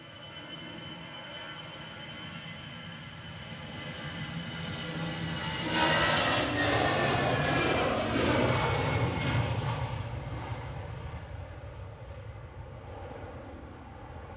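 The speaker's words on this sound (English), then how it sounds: "On the roll is EasyJet to Jersey. GEZWH is an A320 Classic that's 11 years old" An 11-year-old easyJet Airbus A320 on its takeoff roll at Manchester Airport, bound for Jersey, its engine roar swelling to a loud, bright peak midway and then easing as the jet moves off, with no voices.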